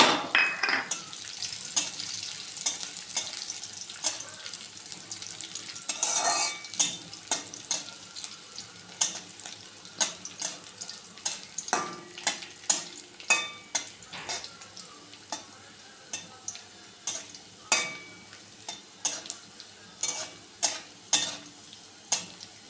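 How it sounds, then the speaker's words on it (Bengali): Vegetables fry in hot oil with a little ghee in a wok, a steady close sizzle broken by frequent sharp scrapes and clinks of a spatula stirring against the metal, with no talking. "বন্ধুরা, কড়াইতে আমি একটু তেল আর সামান্য একটু ঘি দিয়ে গরম করে নিয়েছি। এবার আমি এগুলো ভেজে নিচ্ছি।"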